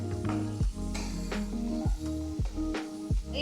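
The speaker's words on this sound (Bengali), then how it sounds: "এখন মশলাটা একটু ভালো করে কষিয়ে নিই" Spice masala with onion and ginger frying in a pan for pomfret jhal, soft steady sizzle broken by rhythmic scraping stirs of a spatula roughly every half second, close and fairly quiet, no talking.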